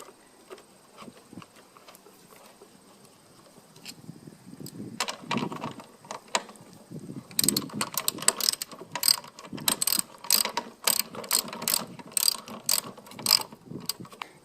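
A lawn mower wheel being worked back onto its axle after lubricating spray, with quiet handling at first, then a run of sharp ratcheting clicks and clacks growing busier and louder; no talk.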